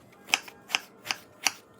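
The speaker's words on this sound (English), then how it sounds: "Then cut the aubergine into chunks." A knife chops an aubergine into chunks, four crisp, evenly spaced clicks of the blade striking a board, close and clear against a quiet background.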